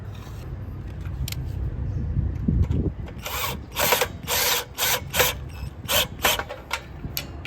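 A power screwdriver drives screws to fasten wires into a circuit breaker terminal for a split-type air conditioner, with a series of short, close, buzzing bursts in uneven rhythm over a low background rumble.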